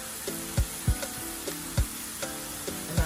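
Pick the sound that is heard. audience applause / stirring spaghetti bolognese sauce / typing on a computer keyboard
stirring spaghetti bolognese sauce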